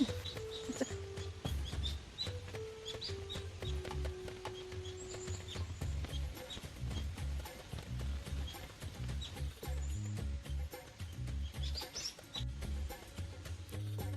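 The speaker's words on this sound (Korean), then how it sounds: "새소리가 요란하네요" Birds in a garden chirping busily and loudly, with overlapping repeated tweets and calls throughout alongside low rustling and knocking sounds.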